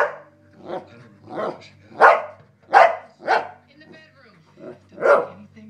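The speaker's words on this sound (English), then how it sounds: "Hey, quit barking." A dog barks repeatedly up close, around nine loud barks in an uneven rhythm with short pauses between them.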